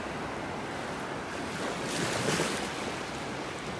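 Ocean waves break on a beach in North Naples, Florida, a steady wash of surf with wind noise, one breaker swelling louder midway, and no talking.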